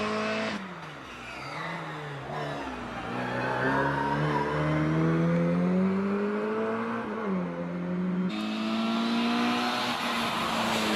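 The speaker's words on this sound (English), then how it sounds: "This is a rapid little mini and a rapid driver as well." A Mini race car at the Prescott hillclimb accelerates hard through the gears. Its loud, buzzing engine climbs and drops in pitch with each shift as it passes nearby, and tyres squeal briefly.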